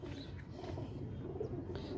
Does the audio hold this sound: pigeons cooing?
yes